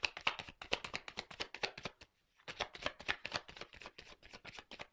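Tarot cards are shuffled and drawn in a rapid run of crisp, papery flicks and slaps, with a brief silent pause midway before the shuffling resumes. The cards sound close and quiet.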